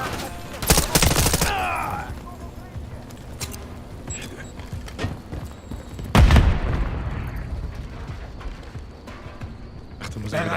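Gunfire in Call of Duty: Modern Warfare 3, short loud bursts near the start and again mid-way, with scattered shots and game noise between them and a player talking over it.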